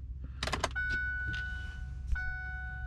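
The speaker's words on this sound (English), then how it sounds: "turn the key in, let it all light up, and then twist it and you're away" A key is turned in the ignition of a SsangYong Korando C300, with a jangle of keys and a soft click, then electronic chimes and a thin steady warning tone as the dashboard lights up.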